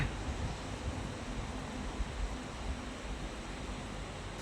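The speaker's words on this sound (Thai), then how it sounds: "เราก็จะไปเทน้ำออกนะคะ" Water poured out of a pot of boiled sticky corn makes a steady, rushing splash that runs unbroken throughout at close range, with no speech over it.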